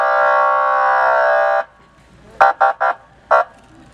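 An ambulance siren sounds as one loud, steady tone for over a second, then breaks into four short, sharp blasts, close by with no voices over it.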